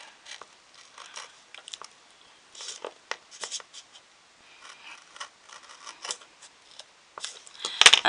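Scissors snip a notch out of fabric or paper in a craft project, giving a scattered series of soft, close cutting clicks and rustles, faint at first and louder toward the end, with no talking.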